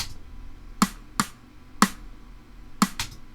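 Logic Pro Drummer snare pattern playing alone: four sharp, crisp hits spaced unevenly over a quiet background, each short and snappy with a bright crack, no talking.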